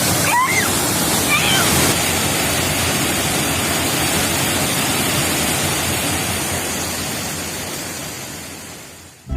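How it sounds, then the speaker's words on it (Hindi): A waterfall at a hotel in Mussoorie, fed as an extension of Kempty Falls, pours as a loud, steady rush of falling water that fills the whole clip. "उस होटल में गिरने वाला झरना केम्प्टी फॉल का एक्सटेंशन है"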